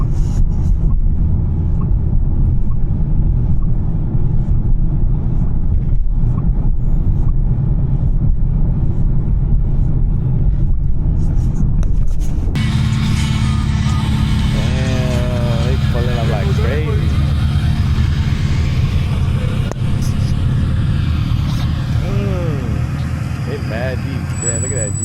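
At a car meet, a modified car exhaust rumbles as a deep, continuous low drone, louder and rougher in the second half, while people chat nearby.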